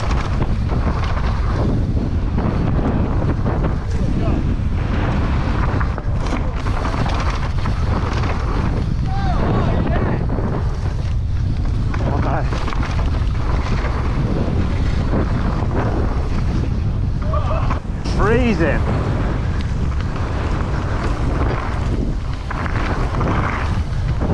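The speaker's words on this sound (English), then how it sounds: "What a cold, windy day" Strong wind roars and buffets the microphone steadily throughout on a cold, windy day out downhill mountain biking, loud and constant, with a person speaking beneath it.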